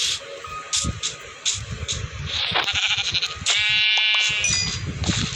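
Several synthetic Minecraft sheep bleats ring out over a bed of game sounds and soft footsteps, the longest drawn-out bleat near the end, fairly loud and close.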